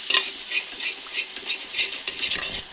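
Coriander and chili powder heating in a pan, stirred with a utensil in a steady rhythm of about eight soft scraping strokes, close up with a faint sizzle and no talking.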